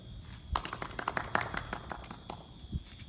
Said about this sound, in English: You need to applaud appropriately.